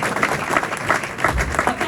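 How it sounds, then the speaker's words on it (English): Audience applause for speedway rider Ben Cook at a Belle Vue versus Ipswich press conference, a steady broad wash of clapping from a room crowd lasting the whole moment with no voices over it. "let's have a big round of applause for Ben Cook"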